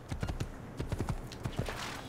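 Hooves clip-clop in quick, uneven bursts as a horse moves in the Assassin's Creed video game, with close, distinct thuds and no talking.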